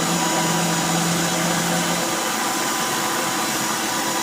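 A pin lathe used for making security lock pins runs with a steady broadband whine and a constant high motor hum, loud and unbroken, with a low tone dropping out midway.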